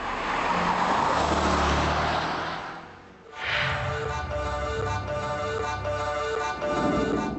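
A heavy BMW 7 Series with a V8 biturbo engine revs hard and loud, fades briefly, then surges again with a rising, shifting drone through the gears.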